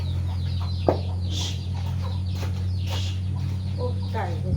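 Chickens clucking in a home setting, several short scattered clucks and calls over a steady low background hum, moderately close, with some faint voices.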